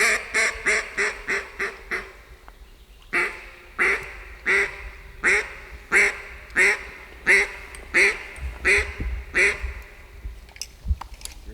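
Ducks quack in a rapid rhythmic series of loud calls during an Arkansas duck hunt, likely a caller, repeating in bursts with short pauses, close and dominant.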